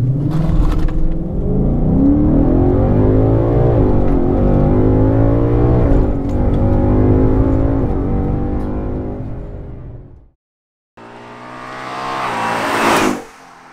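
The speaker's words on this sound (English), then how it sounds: "I'm gonna hit the accelerator, and then let it go" An Audi S5 or Mustang GT launching hard on a 0-60 run: loud engine roaring and climbing through the revs for about ten seconds, a brief cut to silence, then another rising rev building to a peak, with no talking.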